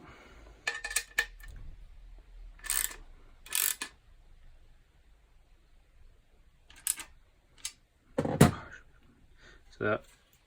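Bolts on a Ducati Monster 1200S tail tidy being tightened with a ratchet and tools: scattered metallic clicks and clanks in short bursts, close and fairly quiet, with pauses between.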